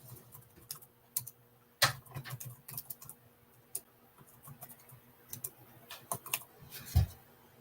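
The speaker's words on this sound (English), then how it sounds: "Fortunately, I type fairly fast." Fast typing on a computer keyboard, a steady run of close, crisp key clicks with uneven rhythm and a few louder strikes, no voices.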